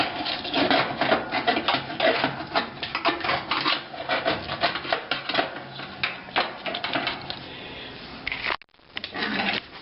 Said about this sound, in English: with this new hinge, you just slide it right in the opening here with a little bit of patience